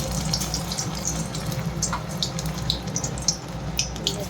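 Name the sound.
cauliflower pakoras frying in oil in a wok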